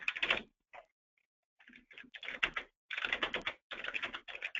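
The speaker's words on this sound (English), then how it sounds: "So as I type this" Rapid keystrokes on a computer keyboard while entering a new requirement in quality-management software, coming in close, crisp bursts separated by brief pauses, with no voice over them.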